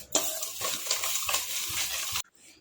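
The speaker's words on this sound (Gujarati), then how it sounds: "આપણે આને પહેલાં તૈલોને સરસ હલાવી દઈશું" Oil being stirred into a fulwadi batter with yogurt, producing wet, close scraping and sloshing against a bowl for about two seconds before stopping abruptly.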